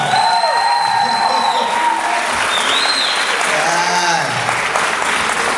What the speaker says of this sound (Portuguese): Salva de palmas mais forte pra esses dois guerreiros!